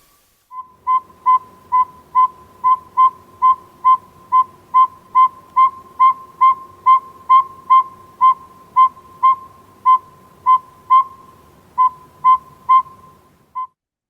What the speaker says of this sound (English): It's a periodic monotone tooting call.